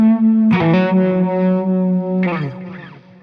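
Electric guitar lead tone run through an HX Stomp and analog pedals, with the guitar volume backed off: a held note, then a picked run of bright, slightly driven notes with chorus-like shimmer, played loud and alone before fading.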